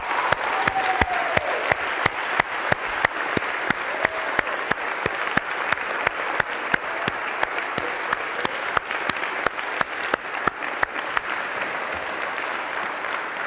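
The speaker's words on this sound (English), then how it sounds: "give them a huge round of applause?" A large lecture-hall audience at CS50 applauds the course staff, a long, steady stretch of clapping with a few sharper claps standing out, sustained and fairly loud throughout.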